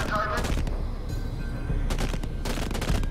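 Bursts of gunfire in the zombie game Deadlight, sharp loud shots in quick clusters with brief gaps, a voice talking between them.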